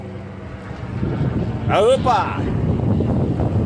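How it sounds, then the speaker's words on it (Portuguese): Strong wind buffeting the microphone outdoors near a helicopter, a steady roaring rush throughout with a voice briefly calling out midway. "Olha o vento, olha o vento."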